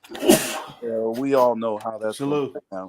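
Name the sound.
sneeze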